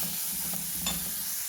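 Onions frying in a pan with green chilli and turmeric, a steady close hiss of oil with a brief stirring scrape partway through, faint and continuous.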